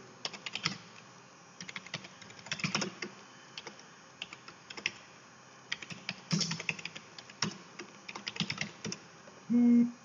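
Typing on a computer keyboard while entering a name into a registration form: irregular bursts of close, clicky keystrokes with short pauses between words, followed by a brief louder tone at the end.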